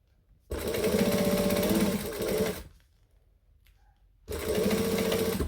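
A sewing machine stitches a handbag in dark green fabric at a 4 stitch length, running in two loud, steady bursts close up with a short quiet pause between them.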